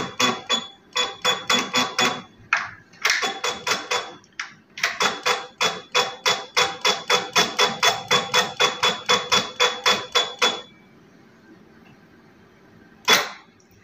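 Juki LK-1900 bartack sewing machine running after the pedal press, a fast, close series of sharp rhythmic clacks in bursts, ending with a quieter hum and one final clack.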